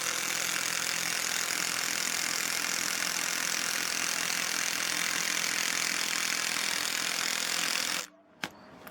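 Cordless 12V impact driver on its low setting driving a 3-inch screw: a loud, continuous rapid hammering rattle for several seconds that stops abruptly, followed by a faint click.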